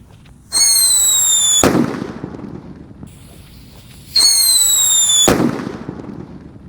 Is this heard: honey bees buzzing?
no